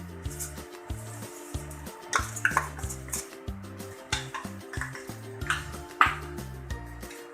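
Pancake batter with sugar being mixed in a bowl, with irregular close clinks and taps of a utensil against the bowl, playing over steady background music.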